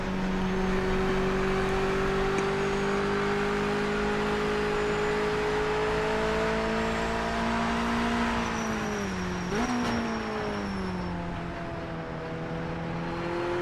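A Mazda race car lapping High Rock Circuit in Project Motor Racing on PS5, its engine holding a steady, loud drone that rises slowly, dips sharply on a downshift near the end, then climbs again, with no talking.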